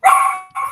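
Two sharp, loud dog barks come in quick succession, close and clear, with no talk.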